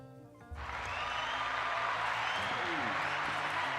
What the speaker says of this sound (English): Let me get the hand clap again.